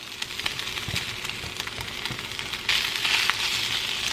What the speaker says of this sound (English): So let me put the peppers and onions back in